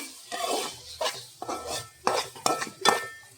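A spoon stirs coriander powder into cauliflower biryani masala in a pan. It gives about six close scraping strokes against the metal in a loose rhythm, with a faint sizzle underneath.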